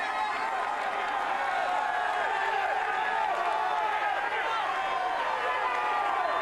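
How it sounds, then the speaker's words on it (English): A massive roadside crowd of cycling spectators at Paris-Roubaix 2018 on a cobbled sector, a continuous roaring wash of cheering and shouting that holds steady throughout, with a commentator speaking over it. "a massive crowd here"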